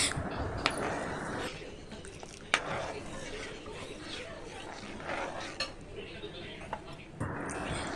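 Corn flour mixture for halwa stirred in a pan, with soft scraping and occasional metallic clinks of a spoon against the pan, fairly quiet and continuous over a background hiss.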